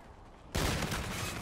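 A sniper rifle shot bursts out loud and sudden partway through in Call of Duty: Infinite Warfare, followed by a booming, rumbling tail over quieter game ambience.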